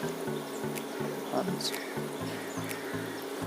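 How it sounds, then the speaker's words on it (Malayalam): Onion rings fry in boiling oil with a constant, close sizzling hiss, joined by faint regular low thumps throughout. "തിളച്ച എണ്ണയിലൊക്കെ ഇട്ട് കൊടുക്കാം"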